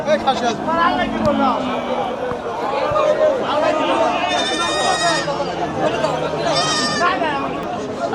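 Goats bleat repeatedly at a busy village livestock market, several wavering calls close by over a crowd's chatter and people talking.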